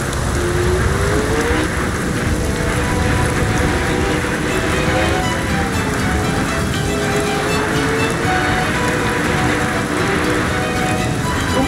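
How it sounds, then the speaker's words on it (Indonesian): Steady heavy rain in the racing game Assetto Corsa hisses loudly and without a break, blended with a continuous car engine drone and road noise. "Sumpah, ini hujan harus dimatiin dulu sih."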